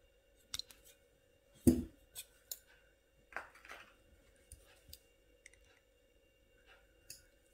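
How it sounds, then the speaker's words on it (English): Wire cutters snip thin weaving wire while making a wire-wrapped pendant, giving one sharp close snip amid a few small, scattered clicks and handling taps in a quiet room. "I'm going to cut this weaving wire."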